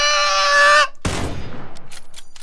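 Rapid gunfire in PUBG after a held tone cuts off: one loud close shot followed by a fast, evenly spaced burst of rounds fading over about a second and a half.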